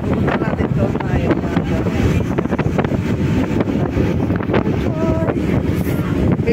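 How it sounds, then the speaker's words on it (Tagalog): Strong wind buffets the microphone on the open deck of a Star Ferry crossing to Tsim Sha Tsui in Hong Kong, a loud continuous roar with boat and water noise underneath and brief voices in the background. "Medyo malamig na ang simoy ng hangin mga lalabs."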